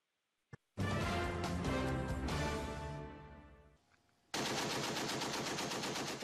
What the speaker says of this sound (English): we'd like to show the Super Aegis II, a short intro to it, which is a stationary machine gun turret